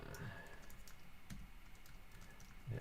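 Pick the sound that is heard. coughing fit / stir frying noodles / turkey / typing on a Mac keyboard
typing on a Mac keyboard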